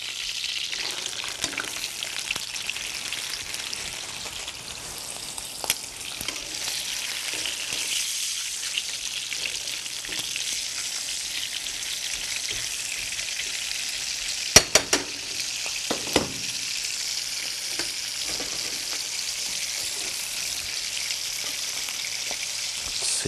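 Veal sizzles and crackles in a hot frying pan, a steady close hiss of frying with a few brief louder pops and spatters, no talking.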